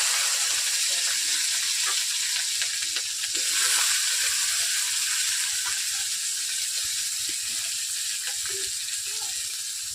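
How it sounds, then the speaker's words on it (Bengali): Oil heating in a wok for frying beans, a soft steady sizzle and hiss with faint crackles throughout, fairly quiet and with no voices. "বিনসগুলোকে ভাজার জন্য আমি কড়াইতে তেল দিয়ে দিচ্ছি। তেলগুলোকে আমি ভালোভাবে গরম করে নিচ্ছি।"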